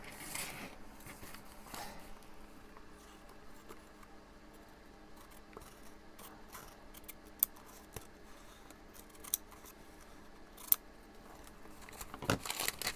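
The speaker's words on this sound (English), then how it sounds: "I can cut it now that I see where it is." Scissors snipping through a brown paper bag while trimming a handmade journal, with a run of soft, close cuts and a few sharper snips, including a cluster near the end.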